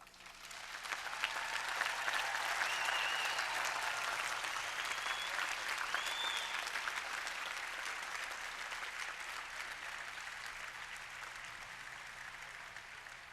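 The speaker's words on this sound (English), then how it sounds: "I would like to give you a moment to applaud your families who have supported you all these years." A large crowd at the 1989 MIT commencement applauds graduates' families, sustained even clapping that swells in the first seconds and holds steady, slowly thinning toward the end, with faint cheers mixed in.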